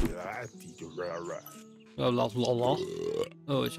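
A customer belches in a video game tavern, a short burp amid cheerful tavern sounds, with someone talking and humming over it.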